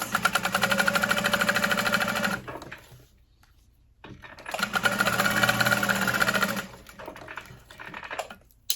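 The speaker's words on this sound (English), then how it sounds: "I'm going to top stitch along the outer edges." A sewing machine top-stitches along the outer edges of a folded bag strap in two steady runs of rapid, even needle chatter, separated by a quiet pause, close and clear with no talk.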